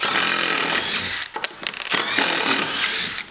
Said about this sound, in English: let's pull these screws out